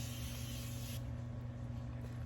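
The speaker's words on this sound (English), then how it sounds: "The spray that I have been really into is Morphe's spray because it is a continuous spray." A Morphe continuous makeup setting spray hisses in one steady, close burst lasting about a second, then the sound drops to quiet room noise.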